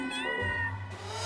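Feral cats meow on a porch at a door, demanding food: a loud, drawn-out wail with a strained, rising pitch, close by and on its own with no voices.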